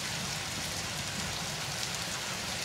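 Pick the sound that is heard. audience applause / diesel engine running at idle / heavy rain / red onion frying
heavy rain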